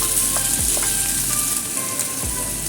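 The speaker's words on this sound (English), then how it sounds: "Then add in pineapple. Stir fry a little bit." Peppers and pineapple stir-fried for sweet and sour pork tenderloin, sizzling steadily and loud in a hot pan with occasional scrapes and clinks of a utensil stirring, no voices.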